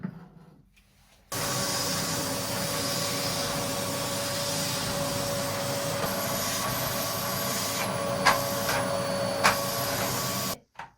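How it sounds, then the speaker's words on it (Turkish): A household vacuum cleaner starts up and runs loud and steady while sweeping the house, its whine and drone broken by a couple of sharp bumps before it cuts off. "Şimdi süpürgeyi alalım ev süpürelim."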